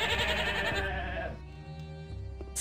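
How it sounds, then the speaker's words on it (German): Goats bleat in the Gothic 2 video game, loud wavering cries filling the first second and a half, followed by quieter ambient game sound with faint animal noises. "Ziegen."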